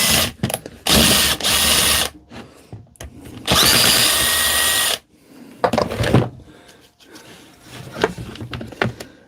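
A Milwaukee power drill whirs loudly in several bursts of a second or two each, separated by pauses and quieter handling clatter.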